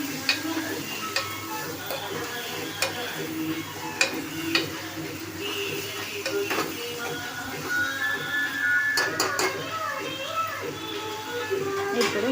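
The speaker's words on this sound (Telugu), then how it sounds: "టమాటా ముక్కలు వేసి బాగా కలుపుకోవాలి." Cut tomato pieces being stirred in a hot pan for moong dal tomato curry: continuous soft sizzling with scraping spoon strokes and occasional clicks, while a person talks over it.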